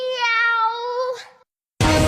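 A cat meows once in a drawn-out, tonal cry that fades, then a short burst of loud broadband noise cuts in after a brief silence.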